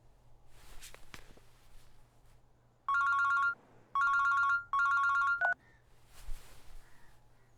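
A phone rings three times in short electronic bursts with brief gaps between them, amid faint room noise and a few soft knocks.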